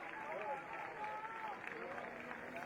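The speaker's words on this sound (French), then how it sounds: "on applaudit Concarneau, un bon parcours" Crowd along a street parade applauding a passing youth football team from Concarneau, steady clapping and crowd noise under a commentator's amplified voice.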